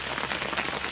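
Light rain patters steadily on a chili pepper farm during harvest, a soft, even hiss of drops with no voices.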